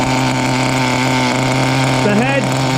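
A Kyosho small-block nitro engine idles in an FW-05T Ferrari 575 GTC RC car, a steady, loud, buzzing drone that holds even throughout, with a brief wavering pitch near the end.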